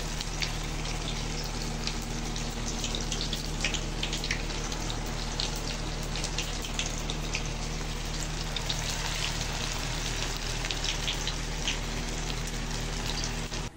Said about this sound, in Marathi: आणि नंतर मग मी तेलात त्यांना सोडलंय.